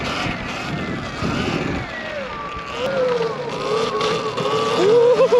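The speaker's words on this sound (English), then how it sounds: "We're on my Segway X260 electric dirt bike, and today we're gonna go for a little ride" A Segway X260 electric dirt bike rides in traffic, its motor whine rising and falling in pitch over steady wind and road rush, growing louder toward the end.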